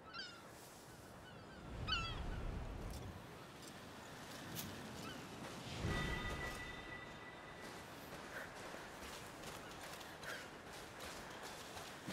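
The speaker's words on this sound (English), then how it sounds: "We call them laughing gulls here." Laughing gulls call in the seaside world of the video game A Plague Tale Requiem, with several brief, faint, distant cries scattered over soft surf and ambient wind.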